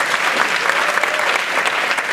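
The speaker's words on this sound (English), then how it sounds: "Big round of applause." Dense, steady applause from an audience at a medical school class show, loud and continuous throughout with no break.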